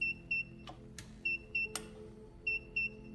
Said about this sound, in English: It's beeping, it's going beep, beep